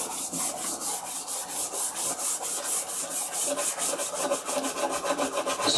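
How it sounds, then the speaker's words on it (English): Rapid rhythmic scrubbing of the contacts on a silver label Commodore 64 circuit board, a steady close brushing rasp repeating several times a second with no talk. "Scrub those contacts."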